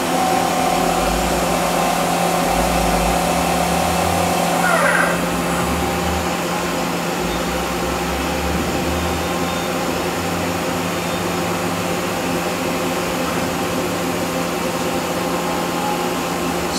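A Hitachi Seiki HITEC-TURN 25G CNC turning center runs a looped program, giving a steady, loud mechanical hum with a constant tonal whine and a brief higher chirp partway through, alone without talk.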